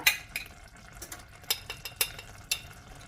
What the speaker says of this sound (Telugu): ఇదొక వేయించుకొని పొడి కొట్టుకున్న ధనియాల పొడి వేసేసి ఒకసారి అంతా కలిపేసుకొని